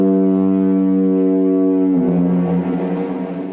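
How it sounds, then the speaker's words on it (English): A lighthouse foghorn from the British coast sounds one long, steady, deep blast, loud and close; after about two seconds it turns rougher and brassier, then begins to fade. "Foghorns were rolled out at remote and not so remote lighthouse stations and light vessels all around Britain."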